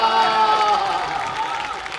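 Audience at a Kumar Vishwas speaking event bursting into applause, a short dense patter of clapping at steady loudness, with a hall tone underneath.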